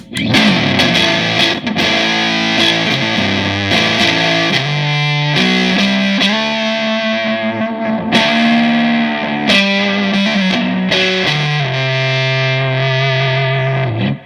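An electric guitar with a humbucker bridge pickup plays through a distortion pedal, thick, sustained chords and riffs, loud and saturated with a slight echo, with no voices.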